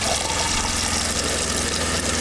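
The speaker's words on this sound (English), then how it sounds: "You can hear the pump. The pump's going." Water pump in a camper van's plumbing system, switched on as a faucet opens, heard as a steady, close, continuous hum with a faint watery rush and no break.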